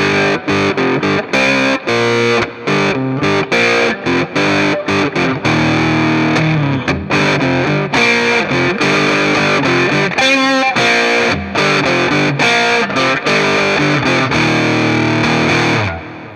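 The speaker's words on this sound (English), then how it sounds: "let's hear how a Fender-type sound would sound with distortion" Loud distorted electric guitar, a Music Man JPX, playing a rhythmic riff with chugging chords and a short lead run, continuous and up front.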